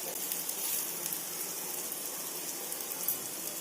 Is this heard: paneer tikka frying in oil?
yes